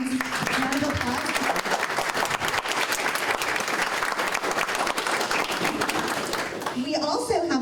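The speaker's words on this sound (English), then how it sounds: "So let's give a round of applause." A conference audience applauds a panel speaker at a healthcare summit, dense sustained clapping filling the room for several seconds, with voices talking over it near the start and end.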